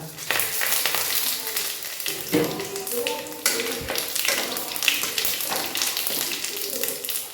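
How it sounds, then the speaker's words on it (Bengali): Whole cumin seeds, dried red chillies and bay leaves frying in hot oil after potatoes, a steady crackling sizzle with sharp pops and a few light clinks, close and fairly loud throughout. "এবার আমি তেলের ওপরে দিয়ে দেবো গোটা জিরে গোটা শুকনো লঙ্কা তেজপাতা"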